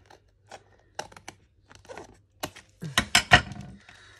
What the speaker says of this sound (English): So I just cut them across, keep my stamps and whatnot.